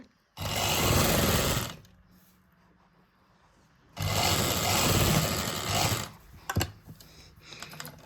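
Sewing machine stitching lace onto silk lining fabric, two loud sustained whirring runs of rapid stitching separated by a quiet pause, with a few clicks of handling at the end.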